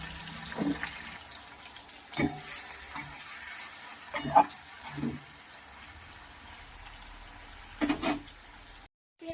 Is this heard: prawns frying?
yes